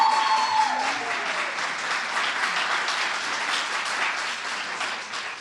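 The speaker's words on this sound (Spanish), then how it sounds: "Aplauso." Audience applause at an art lecture, a steady, even burst of many hands clapping in a hall, sustained for several seconds and tapering slightly at the end, with no speech over it.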